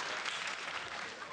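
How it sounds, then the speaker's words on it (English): A brief burst of audience applause, steady clapping heard faintly and at a distance. "A round of applause?"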